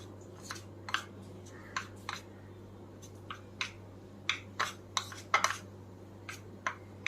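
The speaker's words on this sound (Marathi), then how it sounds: "आपल्याला चांगलं फेटून घ्यायचं आहे" A spoon beating a ghee mixture in a bowl for karanji, tapping and clinking against the sides in quick irregular strokes over a steady low hum, close and fairly quiet.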